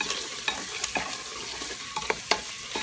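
Beef curry with tomato paste frying over raised heat, a steady close sizzle with scattered scraping stir strokes from a utensil in the pot, no voices.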